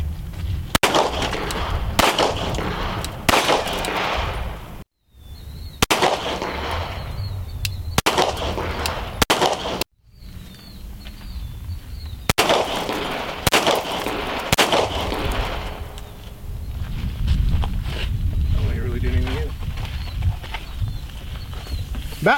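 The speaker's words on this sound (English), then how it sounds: "I don't like shooting through the V, and we're going to demo this to see if we get any spalling." Gunshots fired through a car windshield in a ballistics demonstration, a series of loud, sharp reports spaced a second or two apart, with brief silences and voices talking between shots.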